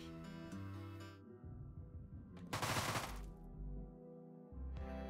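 Uzi fire in Deadbolt, short sharp bursts of automatic shots with a loud rattling burst in the middle, set against game music.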